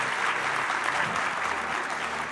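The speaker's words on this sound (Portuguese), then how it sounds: "Uma salva de palmas." A conference audience at a municipal congress on active ageing in São Paulo claps together in a brief, dense burst of applause, loud and even from start to finish.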